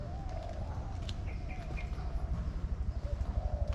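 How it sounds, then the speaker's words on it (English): Birds chirp faintly in an old Japanese cemetery in Singapore, their short calls scattered over a low steady outdoor hum; speech seems to murmur underneath. "it's quiet here at this time of the day except for the chirping of birds"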